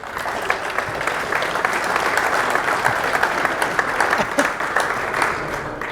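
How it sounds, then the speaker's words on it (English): An audience at a VMworld 2015 IT infrastructure panel gives a round of applause, a loud, steady wash of many hands clapping that holds for several seconds before tapering slightly. "Let's give the panel a round of applause."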